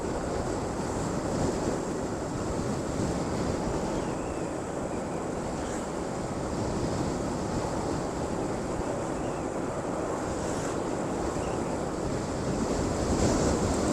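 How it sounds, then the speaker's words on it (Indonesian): Strong outdoor wind buffets the microphone with continuous loud roaring rumble, steady throughout with slight surges and no clear speech. "Ini apa anginnya kencang banget teman-teman"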